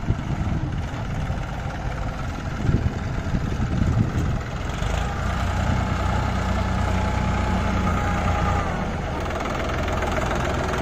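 A New Holland 3230 diesel tractor on 13-inch tyres runs steadily, a loud continuous engine drone with a few louder knocks near the start, no voices over it.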